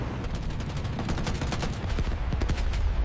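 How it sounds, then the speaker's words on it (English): Rapid machine gun fire in aerial combat between a B-17 bomber and twin-engined German fighters, a dense, continuous rattle of overlapping bursts with heavy low rumble throughout. "De Blasio initiates fire as the twin-engined fighters discharge their missiles"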